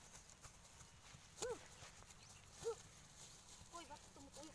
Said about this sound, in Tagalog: Yan, pinatakbo niyang kabayo.